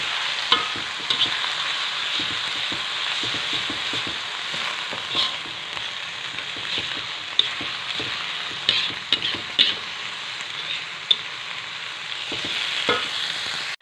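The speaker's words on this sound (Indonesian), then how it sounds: "Kita tumis bumbunya. Bila sudah harum, kerangnya kita masukkan." Clams stir-fry with spice paste in a hot pan, giving a constant bright sizzle broken by occasional utensil clicks and scrapes, loud and close with no voices.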